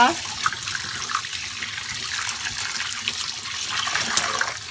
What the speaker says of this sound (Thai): ล้างจนแบบให้เลือดปลาออกหมดเลยนะคะ